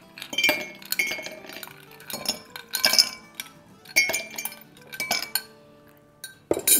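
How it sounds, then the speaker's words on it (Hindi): Ice cubes drop into glasses for an iced whipped Dalgona coffee, a string of sharp, bright clinks and rattles in several separate bursts, close and distinct, with short quiet gaps between them. "उसमें हम आइस डालेंगे।"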